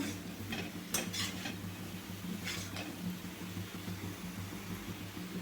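Potatoes with garam masala being stirred in a pan, a few scraping clinks of a utensil early on over a steady low hum and faint background noise.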